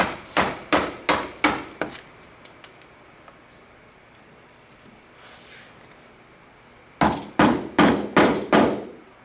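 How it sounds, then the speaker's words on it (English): Mallet blows on a chisel clearing waste between hand-cut wood dovetails, a quick run of five or six sharp strikes, a pause, then another rapid burst of five, close and loud. "a little more aggressive because you're not chiseling to your line just yet"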